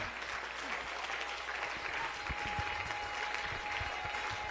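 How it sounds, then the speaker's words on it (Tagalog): A church congregation applauds during a worship service, a fairly quiet, steady wash of clapping that carries on evenly throughout. "Palakpak sa ating Panginoon."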